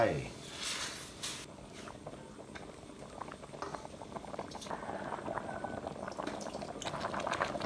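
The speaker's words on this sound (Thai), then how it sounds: "รอน้ำเดือดก่อนนะครับ" A pot of water with curry paste and seasoning bubbling at a steady rolling boil, close up, with a sharp clatter near the start and the hiss building slightly toward the end.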